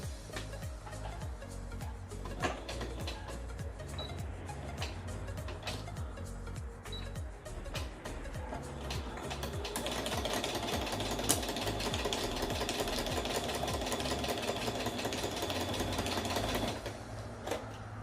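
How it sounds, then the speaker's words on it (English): A sewing machine stitches fabric for a DIY shaker dashboard with a steady, rapid mechanical whir and needle rhythm, running softly at first and then more continuously and a little louder through the second half. "And what you want to do is start sewing."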